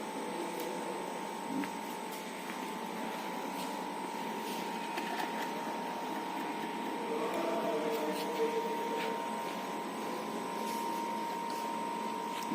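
A gear cutting machine running while it cuts a spur gear, giving a steady mechanical hum with a sustained whine that shifts slightly partway through, continuous and moderately quiet.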